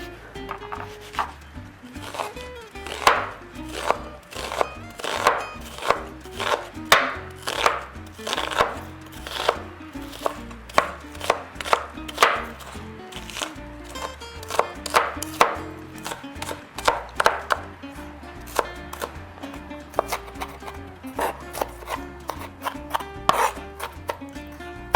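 A knife finely chopping a red onion on a cutting board, a long run of crisp, rapid, close taps in uneven bursts with short pauses between them.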